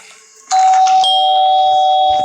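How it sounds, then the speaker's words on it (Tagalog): A doorbell rings loudly and close with a two-tone chime, a sharp first note followed by a second sustained tone that rings on and slowly fades, with no talk. "So doorbell again."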